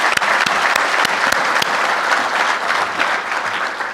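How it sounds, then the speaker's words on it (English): Loud audience applause at an education forum for a speaker who has just finished a talk, with a few sharp individual claps standing out early over a full steady wash of clapping. "I want to just also ask for another round of applause for Jeff's excellent talk"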